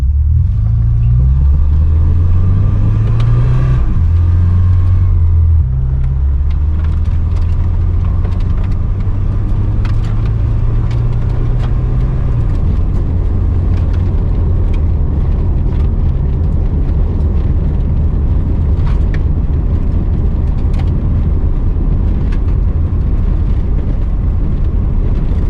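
A car drives over a rough gravel road, giving a loud, continuous low rumble with scattered crunching from the tyres and an engine drone that shifts in pitch early on. No one speaks.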